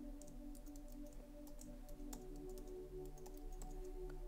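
Faint, scattered key taps on a computer keyboard as text is entered, sitting over a steady electrical hum and room noise.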